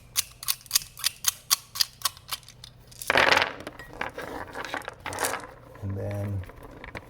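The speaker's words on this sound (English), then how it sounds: "You just take all the rounds out." Rounds are pushed out of a gun magazine one by one, making a quick, even series of about nine sharp metallic clicks. Rustling handling noise and a low hum follow.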